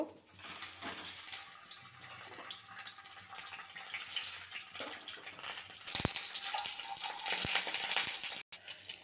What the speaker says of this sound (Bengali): প্রথমে আমি ডিমগুলোকে আগে ভেজে নেব।